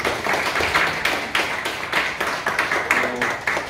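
Lecture audience giving encouraging applause for an elderly professor emeritus after his talk, a loud, close round of clapping with distinct individual claps standing out in an uneven rhythm.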